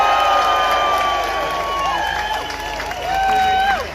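An audience cheers and whoops at a Save the Children demonstration, a sustained crowd roar with bright shouted cries rising and falling over about four seconds, loud and close, with no clear clapping.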